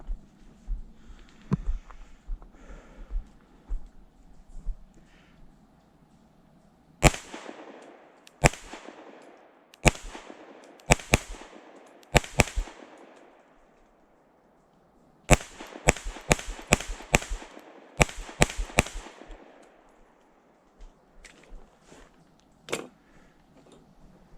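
A CZ P-10C ported pistol fired outdoors in sharp bursts of several quick shots, each crack loud and short with a ringing tail, separated by quieter pauses with faint clicks and handling noise.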